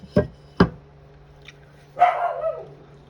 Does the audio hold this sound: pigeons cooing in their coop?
no